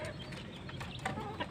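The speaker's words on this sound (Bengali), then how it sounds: "এই যে আমার মুরগিগুলোকে খাওয়ান দিলাম, খাবার দিলাম, খাবার খাইতেছে।" Native village chickens cluck softly as they peck at scattered feed, making a few short, fairly quiet calls close by over a low background murmur.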